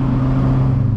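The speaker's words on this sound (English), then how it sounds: "Gonna roll through the gears, enjoy the turns, on throttle, on the brakes." A 1997 Mitsubishi Eclipse GSX engine drones loud and close while under throttle, a steady low growl over one brief moment.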